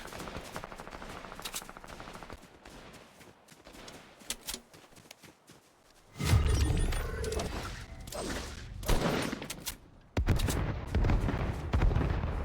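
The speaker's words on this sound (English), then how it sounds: "somebody's shooting at him, so I gotta find the guy that's shooting at him" Gunfire in Fortnite solos: scattered single shots and bursts early on, then heavy close machine-gun fire and booming blasts that continue with short pauses until the end.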